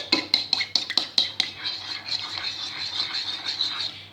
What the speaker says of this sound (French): Et je vais ajouter un œuf entier. Je vais bien mélanger.